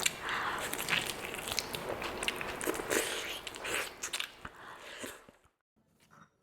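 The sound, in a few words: chewing chicken leg piece biryani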